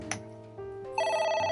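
Telephone ringing in the video game AI: The Somnium Files, a steady electronic ring that grows louder and brighter partway through, playing alone with no talk.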